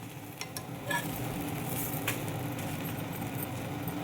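Onions fry in hot oil, a soft steady sizzle close by with a few faint clinks of a utensil against the pan.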